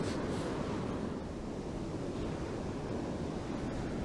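Ocean waves breaking on the Cornwall coast, a steady broad roar of surf with wind buffeting the microphone, continuous and fairly loud, with no voices.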